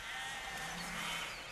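A flock of sheep bleats in a dense outdoor wash of sound, several overlapping calls blending with wind-like noise throughout the brief moment.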